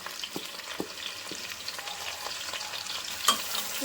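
Potato pieces fry in hot tempered oil seasoned with salt and turmeric, a steady crackling sizzle with occasional scraping stirs and small pops close by.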